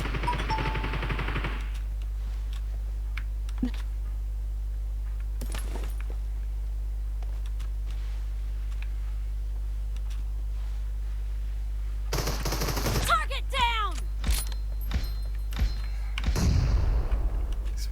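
Gunfire in the mobile battle royale game PUBG Mobile, with a few isolated shots early on and a denser cluster of bursts and impacts near the end over a steady low game hum.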